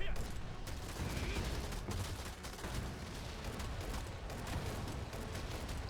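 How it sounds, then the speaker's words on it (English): A boss in the Elyon dungeon firing shots up into the air, a dense barrage of rapid, crackling blasts layered over continuous combat noise, fairly loud and unbroken for the whole stretch, with a voice speaking over it. "he's just going to start shooting up in the air, and we'll get some circles"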